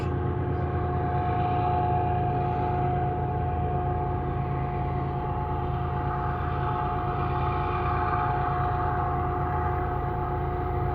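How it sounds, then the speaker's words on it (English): High, steady whistling tone rings from a railroad track shared by CN and Canadian Pacific trains in a canyon along the Trans Canada Highway, sustained over a low rumbling background throughout. "The railroad track right beside me has this high pitch whistling sound to it."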